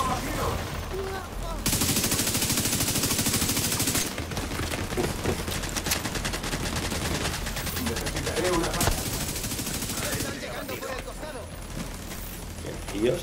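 Bursts of rapid FAL SA-58 rifle fire in the shooter game The Division 2 run loud and almost continuously for many seconds, with someone speaking Spanish over the shooting.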